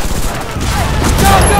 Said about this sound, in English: We'll give you cover fire! Wait for my order! Covering fire!